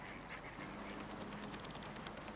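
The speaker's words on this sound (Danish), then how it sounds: "Some geese has come too." Geese on the water in the 1998 Teletubbies PC game, a rapid series of faint, nasal honks and quacks repeating over a soft background hiss.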